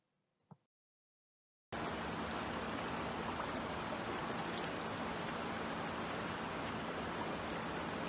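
River water streams steadily over rocks, a constant close rushing wash that begins abruptly after a short quiet moment with a faint knock.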